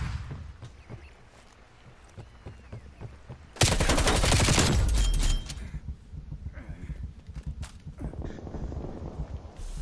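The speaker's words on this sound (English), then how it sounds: "Flashbang going out." A flashbang grenade goes off amid gunfire in Call of Duty Cold War, a sudden loud blast and ringing burst lasting a couple of seconds, followed by scattered shots and footsteps.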